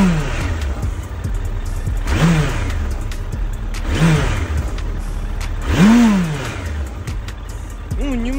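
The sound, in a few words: Suzuki GSF1200S motorcycle engine revving with throttle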